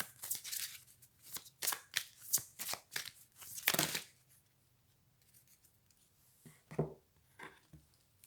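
Cards handled and shuffled during a sentimental guidance card reading: a quick burst of crisp riffling flicks, close and clear, then quieter handling and a few isolated card snaps.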